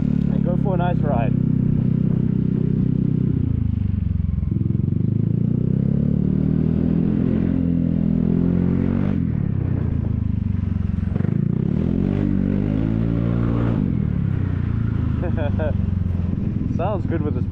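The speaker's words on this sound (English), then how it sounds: "Sounds good with this pipe, but no baffle." Vespa HPE SuperTech scooter ridden with an aftermarket exhaust pipe that has no baffle, giving a steady, loud engine drone that rises and falls with throttle changes throughout.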